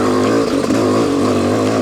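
A dirt bike with a full Pro Circuit exhaust system, Champ Stamp pipe and Shorty silencer, jetted slightly rich on the bottom, idles and burbles loudly and steadily up close, its tone rising slightly midway.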